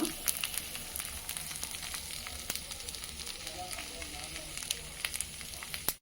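A steady, gentle sizzle of rice dosa batter frying on a hot pan, close and continuous, with scattered faint crackles and no talking.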